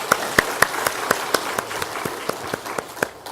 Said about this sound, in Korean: 우리 다 함께 박수 한번 더 하겠습니다.